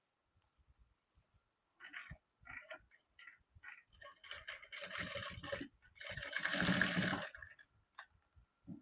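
A sewing machine stitches a blouse in short bursts of rapid ticking, first brief runs and then two longer, louder stretches of stitching, with quiet gaps between.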